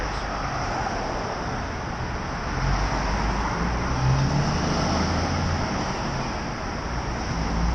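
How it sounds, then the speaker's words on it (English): Steady road traffic rumbling past a pedestrian crossing at Southbank, a continuous broadband wash of car and bus noise that swells slightly midway, with no clear talk. "the traffic stream reduces sometimes when the lights are stop the traffic further up the road"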